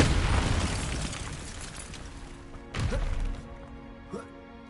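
Bombarda explosion spell cast in Hogwarts Legacy, a deep booming blast fading into rumble, then a second sharp burst and a smaller pop afterward.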